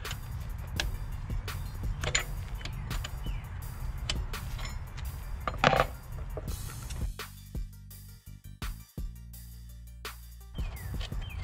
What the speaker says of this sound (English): I'm going to use my 13 millimeter wrench to loosen it and remove it.